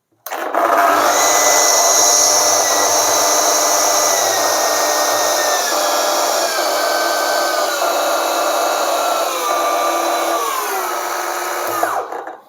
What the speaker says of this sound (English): I go from 6 to 1, the spin change, and also the voice is changing, the loudness of the saw.